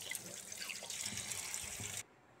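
Vegetables are rinsed under running tap water for pancit bihon, a close steady splash of flowing water that cuts off abruptly near the end, leaving quiet room tone.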